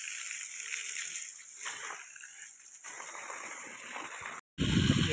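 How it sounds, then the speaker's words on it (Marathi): Water sprayed from a hose against the wall of a house, a steady hissing splatter that swells and thins, cuts out briefly near the end, then resumes with a louder, closer gush. "पाणी आपण मारतोय घराला सध्या"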